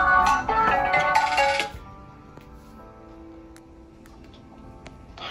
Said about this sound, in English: someone called my phone